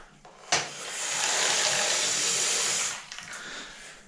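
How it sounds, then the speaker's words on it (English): Water gushes from a tap into a mixing bucket, starting abruptly after a short pause, holding a loud, steady rushing stream for a couple of seconds and then cutting off, leaving only faint handling noise. "let's put some water in here"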